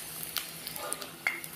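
Potatoes frying in a pan at home, a soft steady sizzle with small crackles and pops and a few light stirring clicks, fairly close and quiet.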